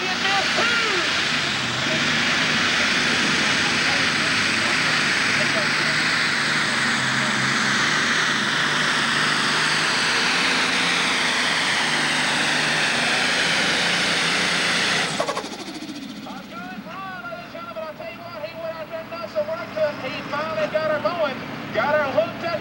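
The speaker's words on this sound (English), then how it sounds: "Tractor is still running." A super stock pulling tractor in the 5,500–7,500 lb class at a 1995 Woodbury, Tennessee tractor pull roars loudly and steadily for about fifteen seconds, then cuts to a lower idling rumble while people talk over it.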